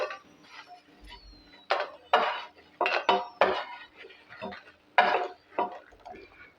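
Fried green chilies, cooked in oil for an onion chutney, scooped from the pan onto a plate: a series of irregular metallic clinks and scrapes of a utensil against cookware, close and fairly quiet, with short pauses between.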